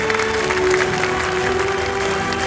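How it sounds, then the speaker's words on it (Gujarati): A crowd at a Gujarati-medium convent school's annual day claps for a top-scoring student, a loud, continuous wash of applause mixed with a steady tonal hum from the hall's sound system. "ફરી જોરથી તાળીઓથી વધારીશું."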